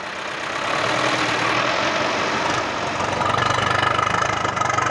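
A Ford 6610 tractor's diesel engine running steadily during a gear test, a loud, close, continuous rumble with a knocking pulse that grows firmer in the second half.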